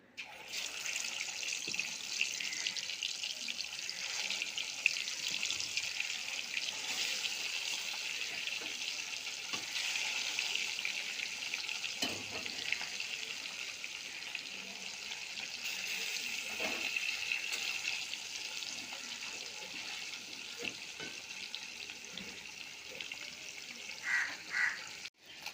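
Pieces of katla fish sizzling in hot oil in a wok, a steady, fairly quiet hiss of frying that runs on, with a few faint knocks and clatters and a brief louder spatter near the end.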